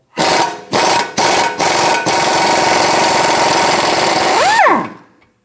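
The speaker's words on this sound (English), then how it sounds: "Using a 19mm socket, remove the nut off of the outer tie rod." A 19mm socket on a power tool spins the nut off the outer tie rod of a 2013-2017 Honda Accord, with several short buzzing bursts and then one long steady whir that winds down, close and loud, no talking.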